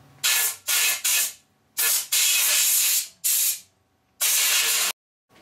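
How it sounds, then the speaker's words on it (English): Metal shavings being cleared from the bottom bracket shell of a steel bicycle frame, heard as six loud, close hissing blasts of a few tenths of a second to about a second each, separated by brief silences. "Now clean the bottom shell so there are no fractions of metal remaining."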